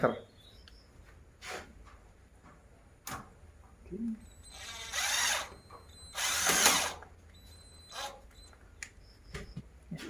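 A power drill drives 1-inch (2.5 cm) screws into a ceiling panel in short loud whirring bursts separated by pauses, with a voice talking between them.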